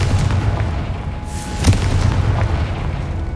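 A Confringo fire spell bursts in Hogwarts Legacy: one deep booming blast with a sharp crack near the middle, over a low rumbling game backdrop, with no voices.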